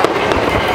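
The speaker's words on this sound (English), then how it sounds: "The fireworks, people." New Year's fireworks in Central Park crackle and boom loudly in a dense, rapid burst of overlapping bangs over a short span.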